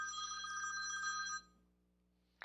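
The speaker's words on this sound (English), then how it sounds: "Sorry for the phone ringing on me." A telephone bell rings steadily and fairly loudly for over a second, then stops abruptly, leaving near silence with a faint click at the end.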